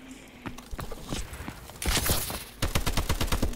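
XMG gun firing in Call of Duty Advanced Warfare, rapid bursts of close, sharp shots in quick rhythmic strings, with a dense blast in the middle and a final fast volley.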